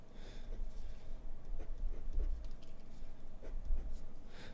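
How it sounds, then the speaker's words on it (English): Calligraphy nib scratching across paper while letters are written, a soft, intermittent scratchy patter with small catches, close and quiet. "my nib seems to be wanting to catch a lot"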